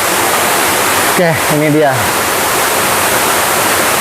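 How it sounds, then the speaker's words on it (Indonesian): Curug Cipaningis waterfall in Pandeglang, Indonesia, rushes as a loud, steady broadband roar throughout, with someone speaking briefly over it. "air terjun"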